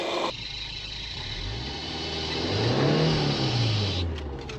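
A Subaru Outback engine is revved up, climbing in pitch then easing back down, loud and close with no talking.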